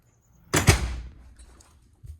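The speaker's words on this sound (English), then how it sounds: "You probably see that if I push the door open hard." A door fitted with a parallel-arm door closer is shoved open hard, giving one sharp, loud thunk followed by a short, fading mechanical rumble as the arm checks its swing, then a faint soft knock.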